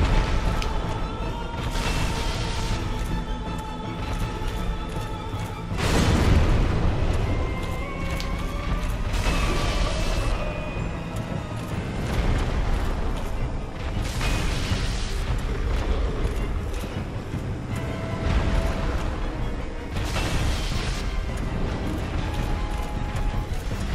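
Demon Firesage's attack in Dark Souls erupts in a series of heavy booms and crashing bursts, with a big blast near six seconds, over a continuous rumbling game soundscape of mechanical clanks and music.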